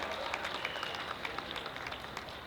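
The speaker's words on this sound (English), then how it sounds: "Give yourselves a big round of applause." A crowd at an outdoor democracy rally applauds, a faint, distant wash of clapping that stays steady throughout, with occasional sharper claps standing out above it.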